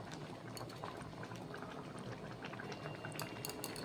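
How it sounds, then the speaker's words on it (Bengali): Aloo matar curry of potatoes and peas with hot water poured in, bubbling and simmering in the pan in a steady, dense boil that stays close and even throughout, with no talking. "এবার এতে আমি গরম জল ঢেলে দেব। কিছুক্ষণ পর যখন ঝোলটা ফুটতে শুরু করবে"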